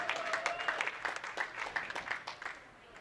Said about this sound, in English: Crowd getting louder and louder here.